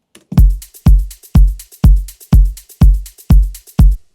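A shaker over a deep kick drum in an afro house beat: eight heavy, booming kicks at a steady four-on-the-floor pulse with airy shaker hits ticking between them, loud and dry.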